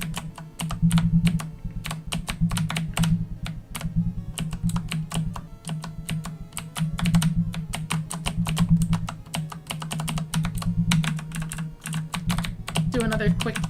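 Rapid keystrokes on a computer keyboard during a Pokémon ROM hack game session, a dense, uneven clatter of close clicks running throughout over a steady low hum.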